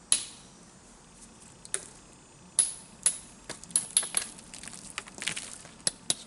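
Sharp stone-on-stone clicks and ticks from flint knapping trim work on Kentucky hornstone, a dozen or so irregular strikes and small flakes snapping off, close and crisp, with quiet pauses between.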